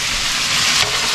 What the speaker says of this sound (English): Oh wow, hear that sizzle.